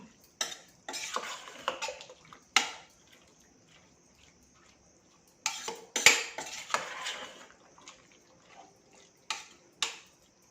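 Cassava being mixed with grated coconut in a pan, a spoon scraping and clinking against the metal in scattered bursts, loud strokes separated by quieter pauses.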